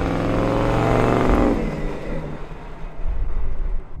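A Y2K-era Cadillac concept car driving and revving close by on the road, a loud steady engine roar that rises then settles into a rougher, fluctuating drone.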